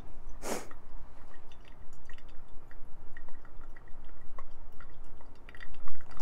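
Water poured over coffee grounds in an April Dripper during a center pour, a soft close trickle and drip with a brief louder splash near the start.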